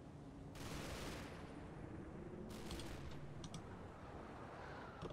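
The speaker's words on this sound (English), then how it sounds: "that's the guy shooting at us then" Enemy rifle fire in the Combat Mission wargame, a few bursts of distant gunshots crackling over a constant low battlefield rumble, with sharper cracks near the middle and end.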